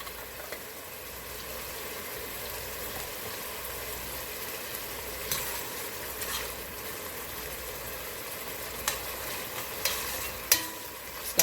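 Onions and ingredients for brown stew chicken toasting and sizzling in a pan, a steady soft frying hiss with occasional light scrapes and stirring clicks, fairly faint and continuous.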